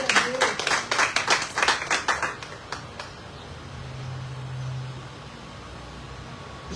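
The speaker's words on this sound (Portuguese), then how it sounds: "Aplauda o Senhor pela sua palavra." Church congregation applauding during a sermon, a short burst of rapid clapping that thins out after a few seconds, leaving a quiet room with a low hum and distant traffic-like rumble.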